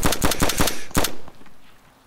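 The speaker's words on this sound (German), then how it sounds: "Ich musste auf den schießen." A rapid automatic burst in the video game DayZ, about five close, sharp shots in quick rhythm, then a short pause and one more loud shot decaying into a brief tail.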